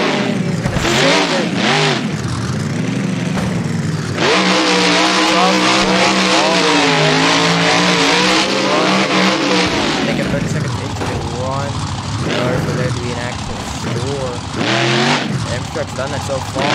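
A monster truck engine revs hard at a Monster Jam arena event, loud rising and falling roars with sustained high-revving stretches and a few sharp bursts, under crowd noise and an announcer talking.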